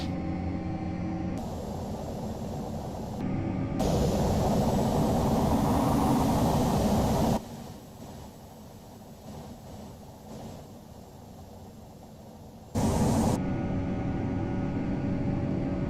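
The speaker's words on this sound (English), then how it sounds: "Okay, power. Toga. Oh, listen to the engines." Boeing 737 jet engines in a flight simulator game spooling up to takeoff power, a broad roaring rush that swells loud, then drops to a quieter rumble before surging again, with no talk heard.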